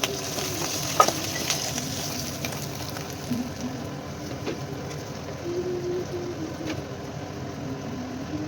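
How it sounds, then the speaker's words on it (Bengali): Fish head frying in hot oil in a home kitchen, a steady close sizzle with faint crackles and a few sharp pops throughout, no voices. "মাছের মাথাটা ভেজে তুলে নিলাম"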